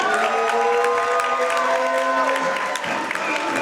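Boxing crowd cheering and applauding after a unanimous-decision win, a dense, steady roar with shouts and whistles rising above it throughout, no talk on top.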